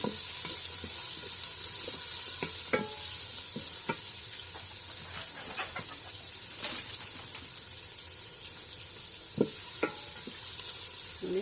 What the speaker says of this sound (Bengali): পেঁয়াজটাকে আমি এবার ভালো করে একটু ভাজা ভাজা করে নেব।